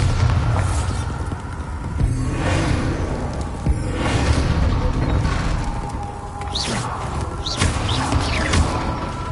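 Bombarda spell explosions in Hogwarts Legacy on PS5: repeated booming impacts and whooshes over a dense, continuous game soundscape, with a few brief high chirps mixed in.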